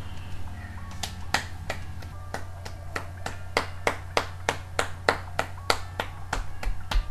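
A single pair of hands claps in a steady rhythm, about two claps per second, over a low, constant hum.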